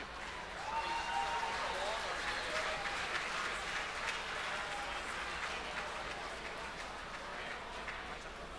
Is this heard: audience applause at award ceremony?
yes